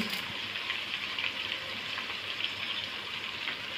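Sizzling in a pan as salt, turmeric and asafoetida fry in oil, a close, steady crackle with no one talking.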